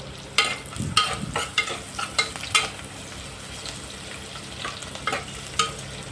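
Onions and green chillies fry in a pan under a soft, steady sizzle, with a utensil tapping and scraping against the pan at irregular intervals. The sound is close and fairly quiet, with no voices.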